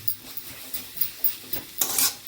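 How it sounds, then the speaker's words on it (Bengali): Spice paste with tomato frying gently over a low flame in a pan, stirred now and then, giving soft scraping strokes and light metallic clinks over a faint, quiet sizzle. "মশলাটাও আস্তে আস্তে লো ফ্লেমে ভাজা হবে, প্লাস তেল ছেড়ে দেবে।"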